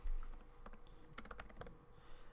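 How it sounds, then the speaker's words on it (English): Light, faint keystrokes on a computer keyboard as a MySQL command is entered, a short irregular cluster of clicks with no speech. "So we're just gonna type in MySQL"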